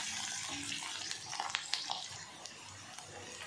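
Onions and dried red chillies sautéing in hot oil in a pan with urad dal, a soft steady sizzle with occasional crackles and pops, no talking.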